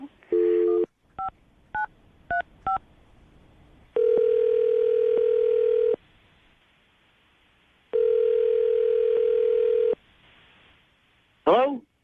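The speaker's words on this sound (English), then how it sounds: "I'm going to dial Kenny's phone number right now, see if we can get him on the phone." A short burst of tone, several quick keypad beeps, then two long electronic ring tones separated by silence, ending as a voice answers briefly.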